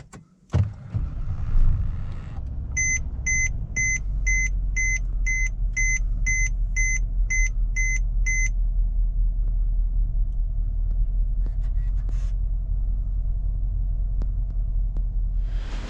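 Interior of a moving Mercedes CLS on the road: a steady low engine and road rumble fills the cabin throughout, with a regular run of electronic chime beeps near the start and no talking.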